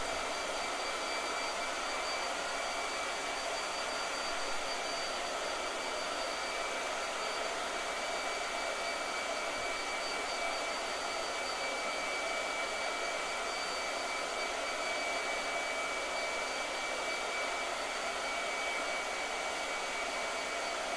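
A blow dryer runs steadily for the whole stretch, a constant broadband whoosh with a thin high whine, unbroken and fairly close, with no one talking.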